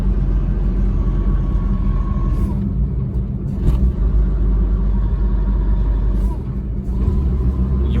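A 1992 Fiat Uno's engine drones steadily in third gear at about 60 km/h, labouring with a loud, constant low rumble and road noise close by, with brief quieter dips and no talk.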